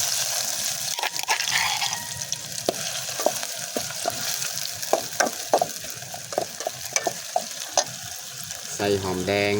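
Wild boar meat stir-fried in oil in a pot with winter melon shoots sizzles steadily, broken by a run of sharp scraping stirs, with brief speech.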